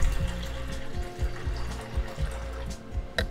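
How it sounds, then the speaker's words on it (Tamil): About two tumblers of water run and splash steadily into a metal pot, a continuous liquid pouring with a light clink near the end. "அதில் ஒரு ரெண்டு டம்ளர் மட்டும் தண்ணி ஊற்றிக்கோங்க"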